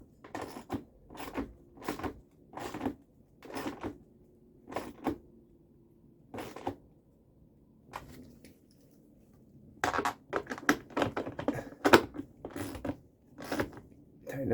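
Bolts on a plastic-based Dometic 320 RV toilet are tightened, giving short, repeated ratcheting and creaking bursts with brief pauses between them. The bursts come faster and denser toward the end, close and fairly quiet.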